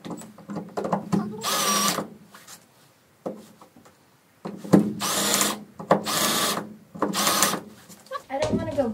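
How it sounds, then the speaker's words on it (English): A power drill drills straight down into wood in several loud bursts of a few seconds each, with short pauses between, a voice speaking briefly in the gaps. "I'm just gonna drill straight down, right like this, until the head breaks"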